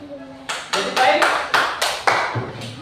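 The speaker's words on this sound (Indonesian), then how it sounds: "Tepuk tangan buat kelompok 3 terus." Students in an elementary school classroom give a group a short round of applause, a series of sharp, evenly spaced claps close by with no talk over them.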